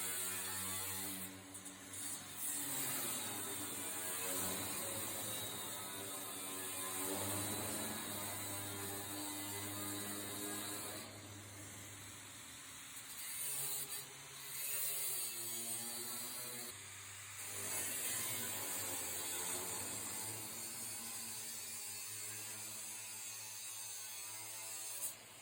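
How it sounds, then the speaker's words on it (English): An angle grinder cuts out a steel sheet-metal silhouette in a continuous, steady, loud whine that wavers slightly in pitch, with short dips where the tool eases off the metal. No voices. "so I'm going to grind it out."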